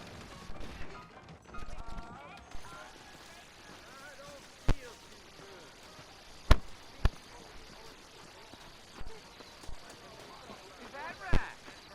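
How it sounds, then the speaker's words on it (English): Horse hooves clip-clop in Red Dead Redemption, heard as scattered sharp knocks and thuds under a busy mix of game ambience and background sounds. "I got the horses saddled up and ready out front."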